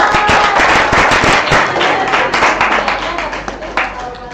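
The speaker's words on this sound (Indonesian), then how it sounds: "Tepuk tangan dulu dong." A classroom full of students claps loudly after a group presentation, a dense, close burst of hand claps with voices mixed in that slowly fades.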